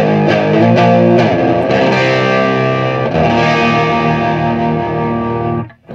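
Electric guitar played through a Peavey Windsor 100-watt tube amp head with the bass knob at zero and other controls centered, a loud, sharp, gritty distorted chord strummed several times and left to ring for several seconds before cutting off.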